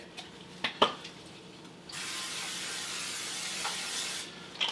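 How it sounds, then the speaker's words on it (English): A few faint clicks, then a continuous close hiss of aerosol cooking spray into a pan lasting a couple of seconds before stopping. "So I'm going to spray my pan. I just have some cooking spray here."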